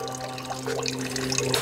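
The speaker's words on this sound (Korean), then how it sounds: "용머리에서 예, 물이 이렇게 졸졸 흘러내려요" Water trickles steadily from a dragon-head spout fed by a hose at a temple set among rocks, a soft, close, continuous babble with faint droplet splashes and a low steady hum beneath.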